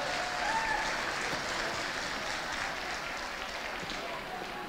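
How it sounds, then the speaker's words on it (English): A crowd at a dance competition winners' event breaks into sustained applause, a dense wash of clapping that holds steady and fades only slightly, with some voices mixed in. "I'd like a huge round of applause for the dancers"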